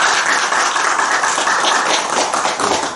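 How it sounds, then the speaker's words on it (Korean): A Buddhist congregation at a Sunday Dharma talk in a temple hall claps together in a dense, steady roar of applause that holds evenly for the whole stretch. "박수."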